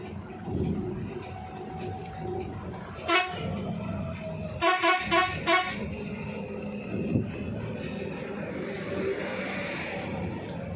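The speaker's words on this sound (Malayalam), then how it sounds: "അതുകൊണ്ടാണ് ഹോൺ അടിച്ചത്" A Volvo bus honks while overtaking a Bharat Benz truck on a highway at night, one short toot followed by a quick run of four blasts, heard from inside over steady engine and road rumble.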